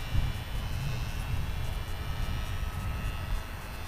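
Electric motor of an X UAV model plane cruising below half throttle, a steady broadband whir and rush with wind noise, constant and fairly loud throughout, with no talking.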